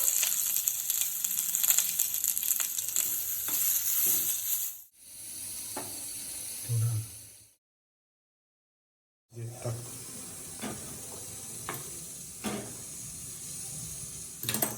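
Onion sizzles in a small amount of oil in a pan for a masala paste. The hissing frying noise is steady and fairly close, broken by a short silent gap, with faint clinks of stirring.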